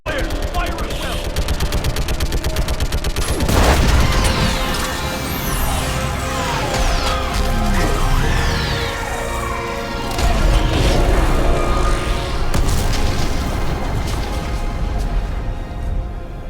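Gunfire and explosions from a Mass Effect 3 battle, including an orbital strike, play as a dense, continuous roar with repeated bursts and booms, mixed under and between voices.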